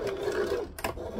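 A sewing machine stitches a wrap skirt in a short close-up burst, its motor whirring briefly before a small clunk and pause as it shifts into back stitching, with no speech.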